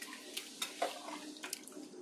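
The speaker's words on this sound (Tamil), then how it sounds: "நம்ம தண்ணி ஊற்றிக்கலாம்." Water is poured into a pot of mutton kulambu, a quiet, brief splashing and trickling with a few soft bursts of sound, heard up close.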